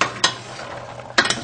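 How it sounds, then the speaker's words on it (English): Fried struffoli dough balls stirred through honey in a pan, with two short bursts of clattering, scraping stirring separated by a quieter stretch of soft, sticky movement. "we're going to stir those until they're all nice and coated"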